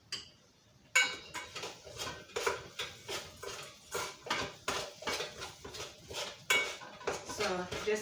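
A spoon scrapes and clinks rhythmically against a bowl while a cheesecake base for mini chocolate truffle cheesecakes is mixed, repeated close knocks following a brief quiet start.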